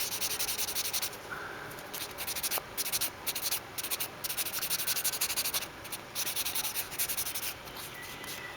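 A sanding sponge scrubs steadily over Gundam plastic model parts to smooth nub marks, a soft continuous rasping with rhythmic strokes, close and quiet, with no talking.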